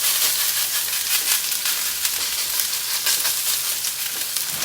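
Steak sizzling in hot oil in a hot pan, cooked for breakfast: a loud, steady crackling hiss fills the whole stretch, with small pops and no voices.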